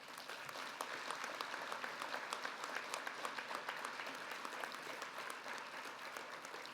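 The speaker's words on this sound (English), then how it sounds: "I think we should give them a round of applause too." Steady applause from an audience at a fire service leadership award ceremony, many hands clapping in a brisk, even patter that holds for several seconds without talk.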